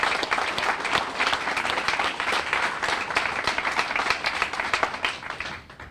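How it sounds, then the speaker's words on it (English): Audience at a ribbon cutting ceremony for a recovery friendship center in Derry, New Hampshire, clapping together in a steady, even round of applause that fades slightly at the close. "we should definitely give him and Jeff Hatch a round of applause"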